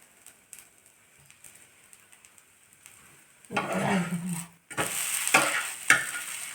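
Ragi dosa batter sizzles on a hot pan, starting quietly and then swelling into a loud, steady crackling fry with a few sharp scraping touches near the end.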